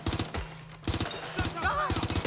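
Bursts of automatic gunfire in Watch Dogs Legion come in loud rapid clusters separated by brief gaps, with a voice shouting over the shooting.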